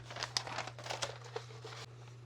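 Freezer paper being folded in half, giving a quick run of close, crisp crinkling and rustling bursts over a faint steady hum, with no speech.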